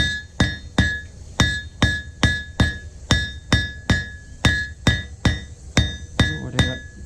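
Blacksmith hammering hot iron on an anvil to draw out a square taper, a steady series of about fourteen sharp, ringing metallic strikes, evenly spaced and close, with no talking.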